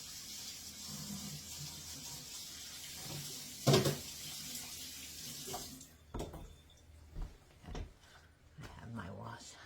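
A kitchen sink tap runs as hands are washed, a steady hiss of flowing water for about six seconds with a few knocks and clunks, then stopping, while a person talks over it.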